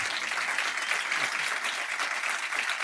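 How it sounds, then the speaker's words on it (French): A crowd applauding steadily, dense clapping at constant loudness throughout. "je vous demande de les applaudir à nouveau, Élodie Bonafous,"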